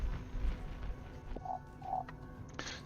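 Toads croak in the World of Aria video game, two short nasal croaks in quick succession over a low background hum, followed by a brief burst of sound.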